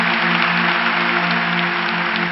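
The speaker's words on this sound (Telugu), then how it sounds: "గట్టిగా చప్పట్లు కొట్టండి నమ్మినవారు" A church congregation applauding in a steady, dense burst of clapping from many hands, continuous and even throughout, with no voices above it.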